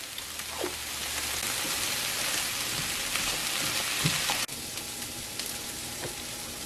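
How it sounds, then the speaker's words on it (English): Eggs being scrambled in a frying pan with cooked vegetables: a soft, continuous sizzle and crackle with a few light scrapes, heard up close and without talk. "now I'm just scrambling up some eggs"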